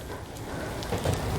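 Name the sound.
rain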